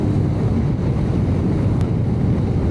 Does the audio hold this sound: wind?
yes